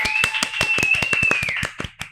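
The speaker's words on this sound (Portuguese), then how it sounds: "Uma salva de palmas!" A small burst of clapping, sharp separate hand claps in quick uneven rhythm, fairly close, with a sustained whistling tone running underneath.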